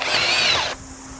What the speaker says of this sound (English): Right, 10mm drill bit, top speed with the 140